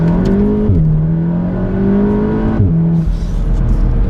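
A stock 300bhp Volkswagen Golf R with grooved or dimpled brake discs accelerates hard on the road, its engine note climbing steadily, then dipping at two quick gear changes before pulling again, loud and close from inside the car.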